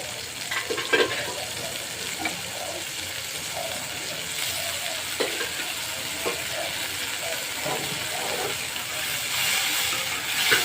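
Dried fish sizzling in a pan with ginger, garlic, cumin paste, coriander and turmeric, a steady moderate frying hiss with scattered stirring clatters.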